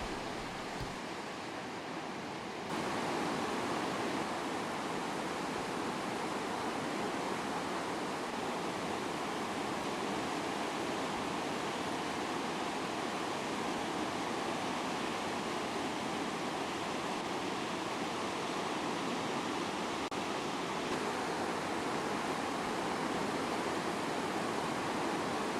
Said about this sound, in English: Rockfall Rapid is a short Class 3 rapid, which appears to be totally blocked, but there is a narrow passage, seen here on River Right